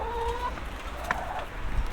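Chickens at an eco farmhouse on Lanzarote cluck softly over steady outdoor background noise, with a brief rooster-like call in the middle and no clear speech.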